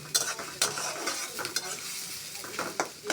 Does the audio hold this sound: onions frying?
yes